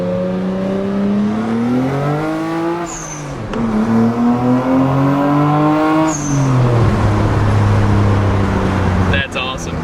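A Nissan Skyline GTR accelerates hard from inside the car, its engine note climbing through gears with clear pitch rises and drops at each shift, loud and close, with faint voices underneath.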